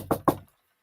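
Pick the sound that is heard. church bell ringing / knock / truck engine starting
knock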